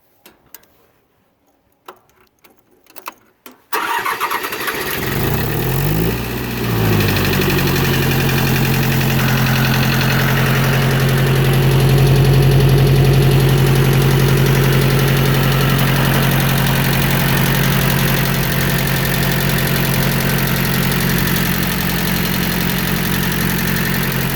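A serviced four-cylinder Mitsubishi D1650 FD compact tractor diesel engine cranks and catches after a few seconds of near silence, then settles into a loud, steady, close idle with a rhythmic knocking chug.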